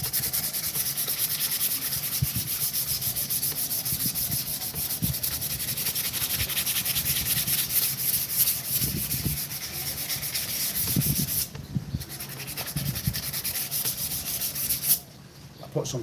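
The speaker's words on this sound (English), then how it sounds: "Put some hefty lines in this with the heavy sandpaper when I started. Now I'm grafting to get them out." Steady hand sanding of wood with heavy, coarse sandpaper while shaping a gada, a continuous close rasping scrub with rhythmic strokes and two brief pauses.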